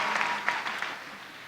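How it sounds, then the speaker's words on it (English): Steady applause from a commencement ceremony audience, dense and continuous clapping filling the hall for a second and a half with no voices over it. "Hold your applause, although it's very deserved for Donna Hamilton"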